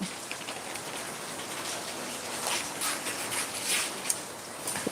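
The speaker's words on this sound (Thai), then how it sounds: "ฝนวันนี้ฝนตกด้วยค่ะ วันนี้ฝนตกนะ" Steady rain falls indoors-audible on a rainy day, a dense continuous patter with a few louder drips, at a moderate level and with no talking.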